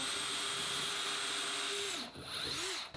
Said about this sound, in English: So you're just gonna go ahead and drill.